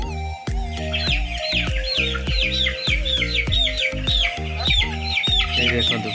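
Chickens cluck steadily and close by on a farm that raises poultry alongside prawns, with repeated short, loud clucks in a busy rhythm and brighter chirps layered over them, and no talking.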